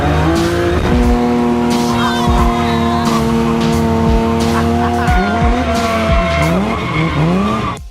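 A car drifting at a show, engine held at high revs with long, loud tire squeals that waver and shift pitch, continuous and close throughout.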